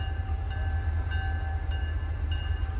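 Norfolk & Western locomotive running eastbound on a Norfolk & Western line, a steady low engine rumble with a sustained tonal hum, heard close and continuous without talk.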